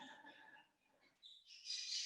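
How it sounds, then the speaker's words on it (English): A pet bird chirps and squawks faintly in the background of a quiet indoor room, a few short calls ending in a brighter, louder trill. "That's my bird going off."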